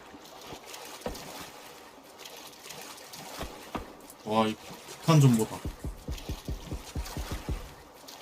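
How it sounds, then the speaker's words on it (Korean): In the PUBG battle royale game, teammates swim and send out light, intermittent water splashes and trickling sounds. These sit low under loud, lively chatter and laughter from players talking throughout. "우리 팀 물소리만 들리지 자기 물소리 안 나는 거야"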